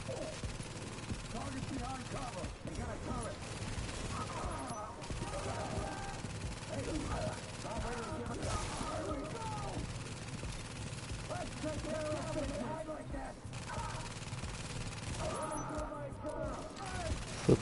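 Gunfire and turret shots from The Division video game come as repeated bursts under near-constant talking, with the shots fairly quiet against the voice and mixed with other game noise.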